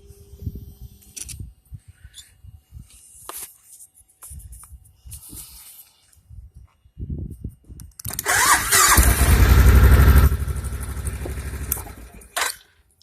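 A 2005 Suzuki Boulevard C90 motorcycle, previously hard to start because of a decompression cable fault, cranks and fires up loudly after several seconds of quiet shuffling and brief talk, then settles into a rumbling idle that fades near the end.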